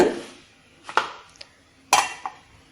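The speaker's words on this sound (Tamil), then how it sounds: "இட்லி பாத்திரம் எடுத்துக்கோங்க" A metal idli steamer pot clanks and clinks a few times, sharp knocks as it is picked up and set down in a quiet kitchen.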